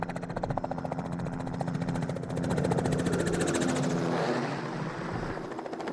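A crop-spraying helicopter thumps close by, its rotor chopping in a fast steady rhythm under a whining turbine, the throb swelling louder midway and then easing.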